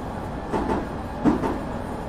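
A train in Train Simulator 2020 moves stock around Baker Street with a low, steady rumble and a couple of soft rhythmic clunks, moderately loud, with no speech.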